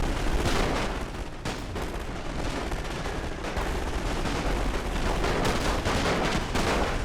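Assault SMGs fire in a World War One strategy battle, with dense, continuous rattling bursts and overlapping shots that roar without a break, loud and close.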